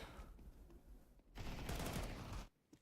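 Rapid gunfire from a Counter-Strike match, with a dense burst of shots in the middle of the clip, loud and sustained for about a second before cutting off, and scattered quieter action on either side.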